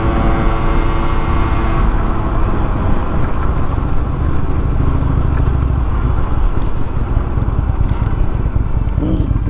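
A Ford Mustang's engine roars loudly and steadily up close, a thick, constant rumble that stays dense throughout, its tone shifting slightly partway through.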